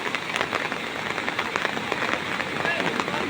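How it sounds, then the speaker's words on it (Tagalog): Steady rain patters on a hard surface overhead, a dense continuous hiss with scattered louder drops, while a voice talks faintly underneath. "Si Jasky, pretty pretty dun sa bubong kahit na ulan."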